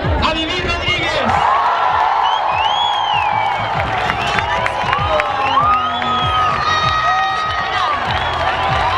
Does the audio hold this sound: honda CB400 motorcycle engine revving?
no